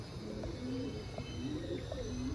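Ferozpuri pigeons coo close by, several low throaty calls in a loose rhythm over a constant hum, with no voices.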